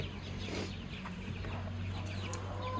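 Four-week-old chicks cluck and peep softly in a brooder, several short scattered calls over a low steady background hum, faint and fairly close, with no talking.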